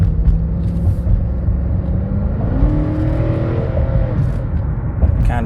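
The engine of a 2006 Cadillac DTS Luxury II gives a loud, close, low rumble from inside the car as it pulls away, the tone rising steadily while it gathers speed.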